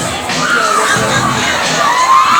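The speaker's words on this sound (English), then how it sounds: "Jam-packed crowd." A jam-packed crowd of about 400 at a wrestling event in Rantoul, Illinois roars and cheers steadily, with shouts and whoops rising over a constant wall of noise from start to finish.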